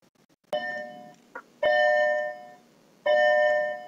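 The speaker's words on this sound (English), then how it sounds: "that's the bell for the middle school" A middle school bell rings in a classroom, sounding three separate sustained electronic chime-like tones. Each lasts about a second, with short gaps between them, and it rings loud and clear with no talk over it.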